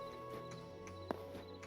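Horse hooves clip-clopping in the video game Hytale, a few soft, faint hoof knocks spaced irregularly with one sharper thud, set against a quiet ambient drone.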